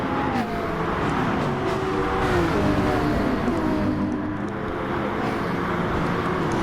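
GT3 race cars, a Lamborghini and a Nissan GTR, racing around Lago Maggiore in a sim racing game: a steady, loud blend of engine drone with shifting revs running throughout, no voices.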